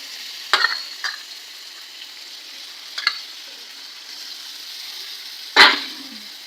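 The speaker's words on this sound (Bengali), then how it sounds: "তারপর আমরা দিয়ে নেবো মাংস এই যে মাংস মাংস দিয়ে নেবো" Mutton pieces dropped into hot spice masala, a few sharp sizzling bursts and spoon scrapes over a soft background hiss, the loudest burst near the end, with no talking.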